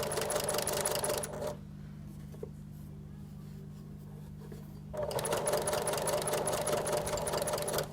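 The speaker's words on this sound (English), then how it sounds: "We're just edge stitching here again." A sewing machine edge stitches a fabric face mask in two close, loud bursts of steady rapid needle chatter, separated by a few seconds of quiet pause while the fabric is pivoted.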